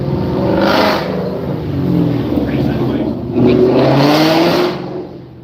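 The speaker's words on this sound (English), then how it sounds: "Thinks he's got a fast car." At the Thunder Beach motorcycle rally, a car engine revs loudly in repeated rising surges close by, with people talking over the roar.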